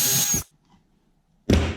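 A power drill bores a quarter-inch dowel hole in a wooden board through a doweling jig bushing, running in two loud, close bursts separated by about a second of near silence.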